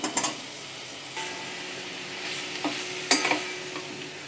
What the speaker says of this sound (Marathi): भाजी आपण व्यवस्थित मिक्स करून घेऊ